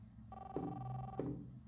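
A telephone rings in the video game Life is Strange, a steady electronic ring with two sharper bursts over a low background hum, fairly quiet and with no one talking.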